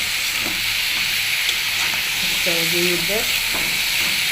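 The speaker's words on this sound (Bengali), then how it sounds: "একটু ভাজি করতেছি।" Food fries in a pan with a steady, loud sizzle and hiss throughout, with a few faint stirring knocks and a short tonal squeak near the middle; no one speaks.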